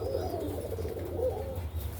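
Pigeons, a strong Egyptian Kashk breed among them, coo in low continuous murmurs against a steady background hum, close and moderately loud with no voices.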